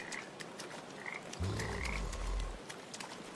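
Frogs croak in the PaPo & Yo video game, a low throaty croak rising in the middle over a steady bed of chirping and twittering game ambience, with no speech.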